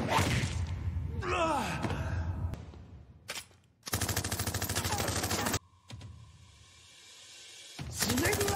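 Gunfire in a film: loud bursts of rapid automatic shots cut sharply between quieter gaps, with gasps and sighs in between.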